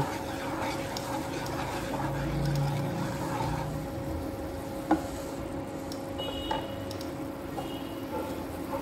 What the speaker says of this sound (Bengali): হাফ টিস্পুনেরও কম নুন দিয়ে এটা একটু নেড়ে নেব।